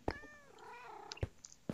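A cat meows in the Minecraft video game, a clear, close, drawn-out mew followed by a few short clicks and taps, with no speech.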